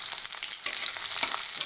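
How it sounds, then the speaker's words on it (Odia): Onions fry in hot oil with a bay leaf for a coconut kofta curry, giving a steady close sizzle with light stirring scrapes and no voices. "ପିଆଜର କଲର୍ ଚେଞ୍ଜ ହେବା ପର୍ଯ୍ୟନ୍ତ ଭାଜିବା।"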